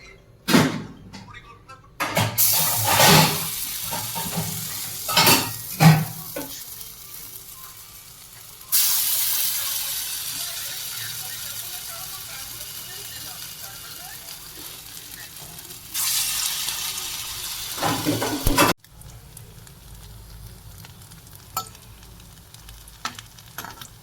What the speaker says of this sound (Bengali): কড়াতে তেল গরম হয়ে গেছে, এবার ছোট ছোট করে বড়াগুলো ভেজে নেব।